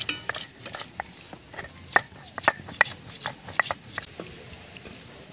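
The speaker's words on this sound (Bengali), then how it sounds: "রসুনটা এখন আমি বেটে নিচ্ছি। আদাটা বেটে নিচ্ছি।" Garlic and ginger ground into a paste by hand, a run of sharp irregular taps and scrapes, close and fairly quiet, with short crunchy strokes repeating and no voices.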